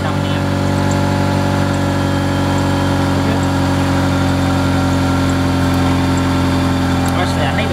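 A $500 Buick LeSabre engine turns over and runs at a loud, steady idle, a constant droning hum, with people talking over it.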